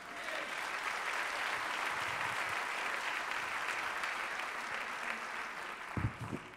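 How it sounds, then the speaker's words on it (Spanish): A church congregation applauds during a sermon, a dense, steady wash of many hands clapping together that carries on throughout at a moderate distance, with a few louder thumps near the end. "Dile ese aplauso a Jesús."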